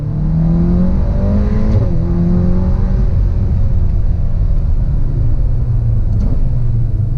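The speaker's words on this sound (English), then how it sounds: "I wasn't fully ready to do a good acceleration there, but went out a second. Sounds nice. That was with windows up." A Ferrari Portofino accelerating, heard from inside the cabin with the windows up: a steady, loud engine drone whose pitch climbs through the gears, with a brief shift dip before rising again.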